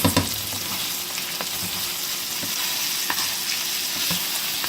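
Home style hash browns sizzle steadily in a hot pan, with occasional scraping and tossing clicks from a spatula over the constant frying hiss, close and fairly loud throughout.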